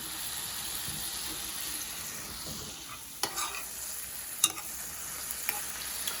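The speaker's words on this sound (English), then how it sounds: "But I want these mushrooms to cook down." Mushrooms frying in a pan as they cook down, a constant soft sizzle and hiss, with a few sharp utensil scrapes and taps later on.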